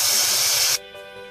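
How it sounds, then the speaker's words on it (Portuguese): Milk poured over onion in a hot pan lets out a loud, steady sizzling hiss close by for under a second, then drops abruptly to a quieter simmering crackle. "Agora eu vou jogar as 2 xícaras de leite pra dar uma fervidinha aqui em cima dessa"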